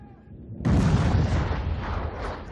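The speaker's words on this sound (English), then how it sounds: "Tank went over the cliff." A tank plunging over a cliff and crashing, a sudden loud, heavy roaring impact after a quiet start, sustaining as a dense rumbling crash.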